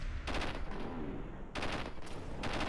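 Rapid bursts from a burst-fire shotgun loaded with buckshot in Fallout 4, a modded Winchester City Killer, in three loud sustained volleys, each a dense rattling barrage separated by short gaps.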